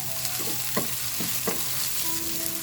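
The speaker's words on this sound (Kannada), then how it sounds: "ಹಾಗೆಯೇ ಬೆಳ್ಳುಳ್ಳಿ ನೋಡಿ, ಇಷ್ಟನ್ನು ಹಾಕಿ ಮೀಡಿಯಮ್ ಫ್ಲೇಮಲ್ಲಿ ಇಟ್ಟು ಫ್ರೈ ಮಾಡ್ಕೊಳ್ಳೋಣ" Onion, cumin and garlic fry on a medium flame with a steady, close sizzle, broken by a few short stirring scrapes against the pan. No one speaks.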